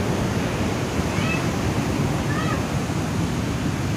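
Big waves crashing on a south coast beach in high surf, a loud continuous roar of breaking water and wash that fills the whole stretch without pause.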